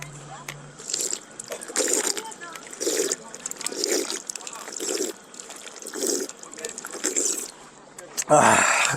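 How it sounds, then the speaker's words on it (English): A person drinking water, with a run of regular gulping and sloshing bursts close to the mic, ending in a louder burst of handling noise. "I will finish what I was saying as soon as I drink some water."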